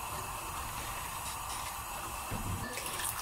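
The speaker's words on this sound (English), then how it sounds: "And then add the hot water." Hot water pours steadily into a pot of cornmeal porridge with a soft hissing gush, faint and continuous, swelling slightly toward the end.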